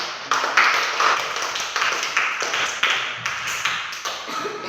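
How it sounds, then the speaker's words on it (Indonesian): A classroom of students claps for a student group, a brief burst of loud, close hand claps with distinct sharp strikes. The claps come in uneven pulses rather than a smooth roar. "tepuk tangan untuk kelompok ini"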